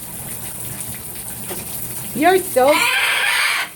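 A scarlet macaw in the shower gives a few short rising and falling squawks over steady rushing water, with a person's voice talking close by.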